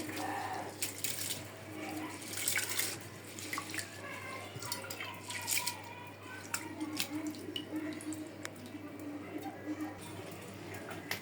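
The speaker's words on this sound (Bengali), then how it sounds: "চাল ডাল একদম পরিষ্কার করে ধুয়ে নিলাম।" Rice and lentils are rinsed in water for khichuri, with faint splashing, dripping and swishing in a kitchen setting, soft and irregular, with no speech heard.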